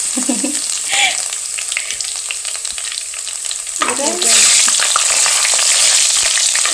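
Garlic and curry leaves sizzle and crackle in hot oil in a pan for a South Indian fish curry, with occasional stirring, loud and close, brief voices at the start and a louder burst of frying near the end.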